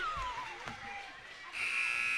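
An end-of-quarter buzzer at a girls high school basketball game sounds as one sustained electronic tone in the final second, following faint arena noise and a brief voice.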